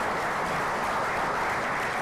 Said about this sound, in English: Y'all can clap for the brother now.